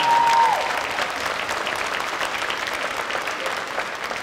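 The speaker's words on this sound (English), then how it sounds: "So let's give a round of applause for that." An audience at a high school spring band concert claps loudly and steadily, a dense, even wash of applause that carries on without letting up.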